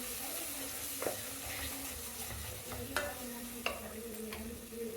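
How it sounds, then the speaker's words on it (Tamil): Tomatoes sauté in a pan for veg biryani with a steady frying sizzle, broken by a few sharp scrapes and clinks of a stirring spoon against the pan, close and moderately loud with no talking. "தக்காளி வந்து நல்லா மசிஞ்சு பேஸ்ட் மாதிரி ஆகணும், அது வரைக்கும் நல்லா வதக்கணும்."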